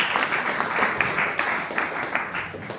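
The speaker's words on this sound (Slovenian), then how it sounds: "Tako, še en aplavz." An audience applauds with steady, dense clapping that carries on without a break from start to finish, moderately loud in the room.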